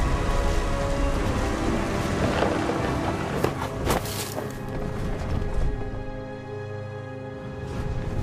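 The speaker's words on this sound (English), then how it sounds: "The thunder sounded much too close and full of angry power" Stormy weather in the video game What Remains of Edith Finch: a steady wash of heavy rain and wind with low rumbling thunder swelling midway, loud and continuous with no voices.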